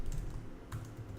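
A computer keyboard clatters as code is typed, a few quick soft keystrokes close by and faint, with no talk over it.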